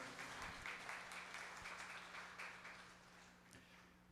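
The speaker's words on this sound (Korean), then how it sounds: "우리 다시 한번 살아계신 하나님 앞에 박수로 영광 돌립니다." A church congregation applauds during a worship service, a faint, steady patter of many clapping hands heard from a distance for the whole stretch.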